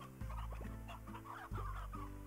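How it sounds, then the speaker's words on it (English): Chickens in the video game Slime Rancher cluck in short, repeated bursts, fairly close and steady over a game-music backdrop, with no talking. "So here is chickens."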